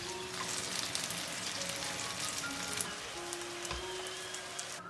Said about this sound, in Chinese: 喜欢吃香的朋友呢，也可以用油再煎一下，吃起来表皮是酥脆的，